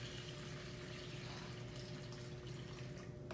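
Liquid yeast waffle batter mixture is poured in a kitchen, giving a steady, continuous watery rush that holds evenly for several seconds without pause.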